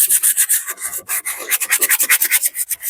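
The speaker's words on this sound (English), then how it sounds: "The oil's just for a little bit of lubricant here with the sanding block." A sanding block with a little oil as lubricant is worked over a scooter panel from a 2004 Vespa ET2, making loud, close, rhythmic back-and-forth rasping strokes that speed up into quick regular passes.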